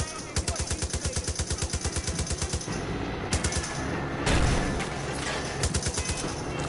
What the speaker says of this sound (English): Nah, he's got a machine gun.